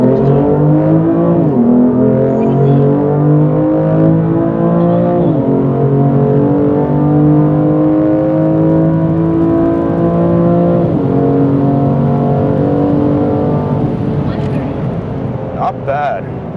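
A 2019 BMW M2 Competition accelerates hard from 30 mph. The engine drones loudly and climbs in pitch through several gear changes. It is close and continuous throughout.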